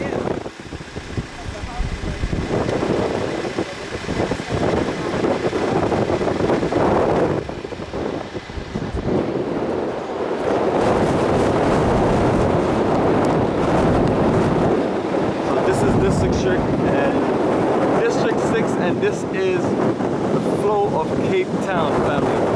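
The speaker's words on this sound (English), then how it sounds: "wind is strong here" Strong wind buffets the microphone on the coast near Cape Town, South Africa, a loud continuous roar and rumble with surf-like wash, with people talking and exclaiming over it throughout.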